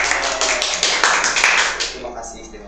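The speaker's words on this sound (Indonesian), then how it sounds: "Tepuk tangan dulu dong buat Yosef." A small studio audience claps for a few seconds during a talk show, a brisk close burst of hand claps that fades out quickly toward the end.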